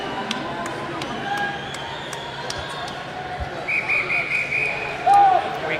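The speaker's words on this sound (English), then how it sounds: "Right here they just did a single whistle, but that's to get in the water." Whistle blasts from officials at a men's and women's swimming championship pool deck, with short, fairly distant whistle tones over a hum of crowd noise and natatorium echo.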